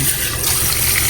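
Cold tap water runs steadily for rinsing raw fish, a loud continuous splashing gush that lasts the whole brief moment.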